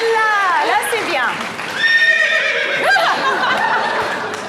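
A man loudly imitates a horse's neigh at a lively French television party game, with a long wavering whinny that rises and falls, then a second shrill burst and a snorting tail under crowd noise.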